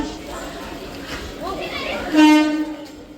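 An orange train rumbles past with a clattering roll, then a loud horn blast sounds near the end, with voices talking faintly underneath.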